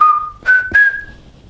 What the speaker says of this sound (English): Always been able to whistle, or I can even whistle using my teeth.